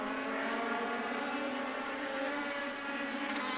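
Race cars running side by side on the asphalt oval of The Bullring at LVMS during the Asphalt Nationals championship, a loud, steady, close engine roar that holds without a break.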